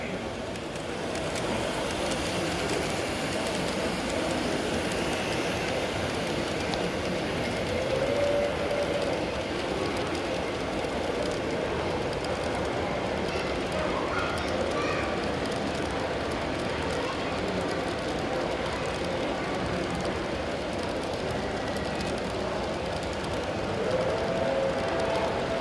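A model train with a railroad police caboose at the rear runs steadily at a science museum train show, its continuous rumble and clatter blending with crowd noise for the whole stretch.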